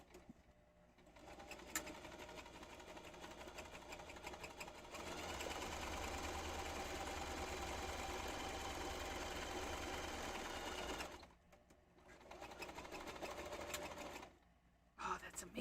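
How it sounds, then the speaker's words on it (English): A sewing machine stitching fabric runs in a steady, loud, whirring buzz for about six seconds, with shorter bursts before and after and people talking nearby. "we're going to sew this guy right down this side."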